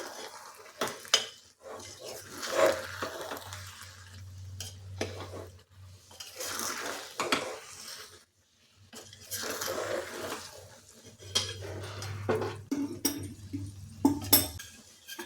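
Jaggery being stirred into a pan of ghee-based kanika bhog, with a utensil scraping and clinking against the pan in repeated close strokes and soft sizzling beneath, with short pauses between bursts of stirring.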